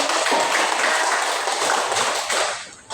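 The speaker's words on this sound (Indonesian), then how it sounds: "Iya, kita tepuk tangan dulu." A classroom of students applauds together after a group presentation on cooking fried rice, a continuous dense patter of clapping that holds steady and then cuts off abruptly at the end.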